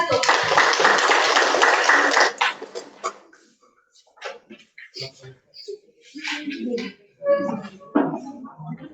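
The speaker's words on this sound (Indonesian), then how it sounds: "Tepuk tangan untuk kelompok 1." A physics class bursts into dense, close applause for a student group that lasts about two seconds and then stops abruptly. Quiet talking and small classroom noises follow.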